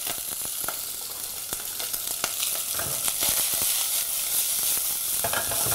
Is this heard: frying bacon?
yes